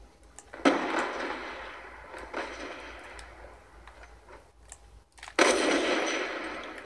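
Gunfire in the video game Call of Duty Black Ops 2 in free-for-all play, loud sharp bursts of shots with a few decaying blasts, the last burst strongest near the end.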